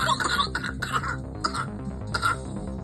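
Several short coughs and throat-clearing sounds come in quick succession, heard close against a low background hum, with a voice briefly under them.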